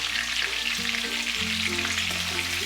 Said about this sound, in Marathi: आता आपण सगळी वांगी या तेलामध्ये घालून घेऊया